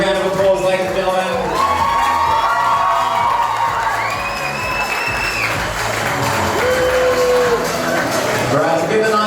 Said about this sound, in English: let's give them a nice big round of applause, ladies and gentlemen